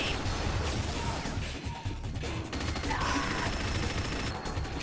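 Rapid bursts of gunfire aimed at an opponent in Unreal Tournament, dense continuous shooting with crashing impacts, loud and close, with brief dips in the middle.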